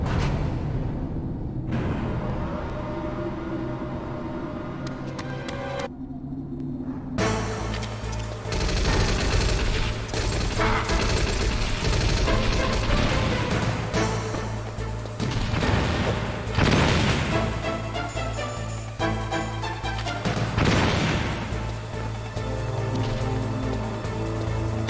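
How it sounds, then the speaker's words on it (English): Stun grenades and chaotic combat in the Metal Gear Solid video game, a long stretch of loud bangs, crashes and rattling gunfire-like bursts, broken by two brief quieter gaps early on. "we're gonna use stun grenades"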